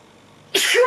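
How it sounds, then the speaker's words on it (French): A single sharp sneeze bursts out near the end after quiet room tone, loud and close, with a breathy onset and trailing voiced release. "je vais éternuer"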